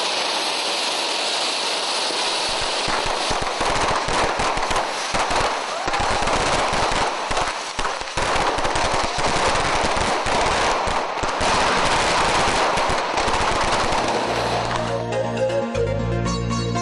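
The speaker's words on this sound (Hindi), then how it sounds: "मिठाई तकसीम की गई और आतिशबाजी का मुजाहरा किया गया।" Fireworks display set off in celebration after a political event in Pakistan, a loud continuous barrage of dense crackling bursts and rapid pops that runs for most of the stretch before giving way at the end to a different, tonal background.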